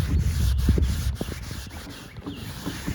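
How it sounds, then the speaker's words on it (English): Sandpaper grit and paint dust are wiped off a Kia car door during a refinishing job, giving a close, continuous rubbing and swishing with rhythmic strokes, alone without talk. "you're getting all that sandpaper, all that paint dust off of your surface. And you wipe it off."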